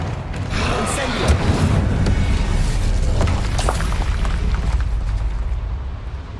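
Incendio fire spell in the video game Hogwarts Legacy, a loud, sustained roaring blaze of flame lasting several seconds, with low rumble and crackling bursts before it slowly fades.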